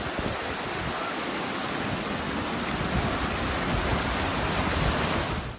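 Steady roar of white water pouring down a mountainside in the rainy season in rural Maharashtra, a dense continuous rush close by with no voices.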